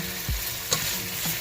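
Potatoes fry in a pan with a steady sizzle while a utensil stirs them, giving a couple of scraping knocks in a short, close burst with no talking.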